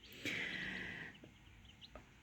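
A broody mother hen with Shamo chicks gives a short squawking cluck followed by a couple of softer clucks and chirps, fairly close, with light outdoor background noise.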